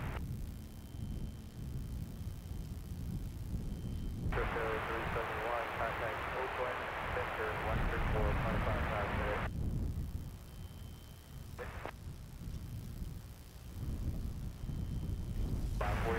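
A Boeing 737 Max 8 airliner on the runway bound for San Diego, its engines swelling into a loud sustained roar for several seconds, then easing, heard at a distance outdoors with wind on the microphone.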